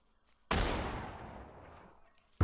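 Video game gunfire: one sharp, loud shot that rings out and decays over about two seconds, then a second abrupt blast at the end, with quiet between.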